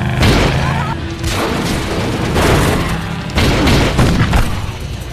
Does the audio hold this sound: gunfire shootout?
yes